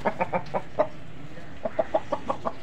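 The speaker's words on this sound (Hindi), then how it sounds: "कौन सी नस्ल का मुर्गा है ये? जावा है हमारा, जावा।" A Java breed rooster with white eyes clucks in short, sharp bursts, a quick run of clucks, a pause, then another fast series, close and clear.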